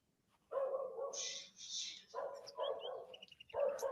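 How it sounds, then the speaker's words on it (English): A dog barks several times in quick bursts in the video game The Excavation of Hob's Barrow, clear and fairly close, mixed with thin high chirps in the background. "See, there's that dog again."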